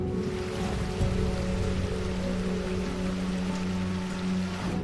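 Steady rain falls throughout, a dense even hiss of drops with low hum-like tones running beneath, with no voices.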